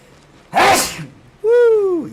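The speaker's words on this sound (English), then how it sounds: "It's a good sneeze." A single loud, close sneeze in Once Human, a sharp burst followed after a short pause by a brief tonal vocal cry.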